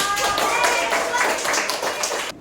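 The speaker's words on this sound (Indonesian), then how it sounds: "Kita beri aplaus untuk mereka semua yuk." A class of students applauding, a brief burst of dense, fairly close clapping that tails off at the end.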